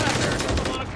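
Rapid automatic rifle fire from an MTZ-556 assault rifle in the video game Modern Warfare 3, a dense, continuous burst of loud shots running through the whole second.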